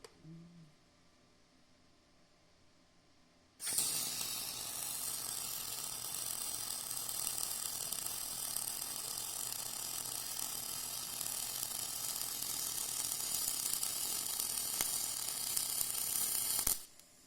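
MIG welding aluminum tube with aluminum wire under pure argon shielding gas from a standard MIG gun: a steady, loud hissing crackle that starts abruptly after a quiet moment and runs continuously for about thirteen seconds before cutting off.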